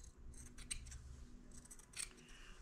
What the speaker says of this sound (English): So I'll finish that with a scissor.